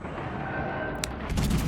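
Battleship gunfire in the console naval game World of Warships Legends, with a French tier 7 battleship firing. Sharp booming shots sound over a rumbling engine and ambient game sound.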